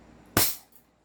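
A single sharp crack from a CZ Shadow 2 airsoft pistol tuned to around 400 FPS, one brief shot with a quick decay in an otherwise quiet setting.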